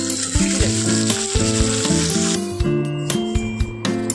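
Nigella seeds crackling and sizzling as they hit hot mustard oil left over from frying silver carp, a steady loud spitting sizzle close up with a few light clinks of a utensil.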